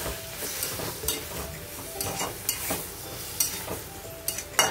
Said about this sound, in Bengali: দিয়ে নাড়াচাড়া করে দেবো